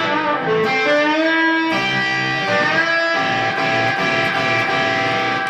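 Distorted electric guitar in a blues-rock style playing bent double-stop notes that slide up into pitch, several sustained phrases in a row, loud and close with no voices.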